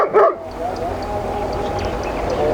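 A dog under training gives a short sharp yip near the start, then whimpers faintly while a low steady background hum continues.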